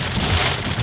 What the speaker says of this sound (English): Do y'all hear the rain coming down?